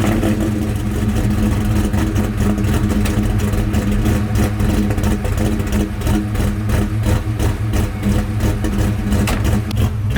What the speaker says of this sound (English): Absolutely nothing better than the old school chop